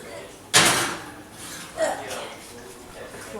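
A kitchen oven door opens and closes during home banana bread baking, giving a sharp thud followed by a softer knock, close by, while a person talks.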